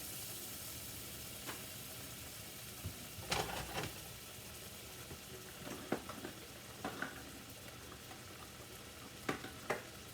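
Butter sizzles in a pan as a gravy base for cubed venison and mushrooms, a faint, steady hiss with scattered small pops and clicks of utensils, fairly quiet throughout.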